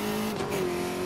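A red Koenigsegg Agera R revs in a Need for Speed: Most Wanted race, its engine holding a steady, droning tone that rises slightly partway through, fairly close and continuous with no talking.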